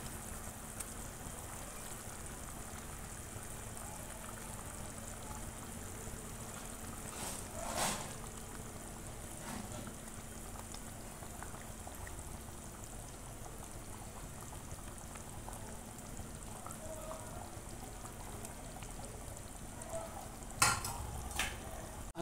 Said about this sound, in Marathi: आता चांगला उकळा आलेला आहे। आता याच्यामध्ये आपण पापलेट टाकायचे।